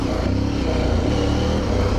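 An Aprilia Tuareg Rally motorcycle on road tires, ridden gently: a steady, close engine drone that holds an even, low throb throughout.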